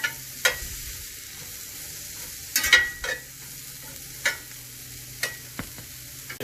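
Onions browning with salt and pepper in a pan get stirred, quiet sizzling broken by several sharp scraping stirs at irregular intervals.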